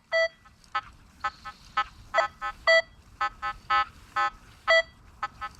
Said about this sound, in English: there's a sound like this where you get iron tone with a good tone that's consistently coming through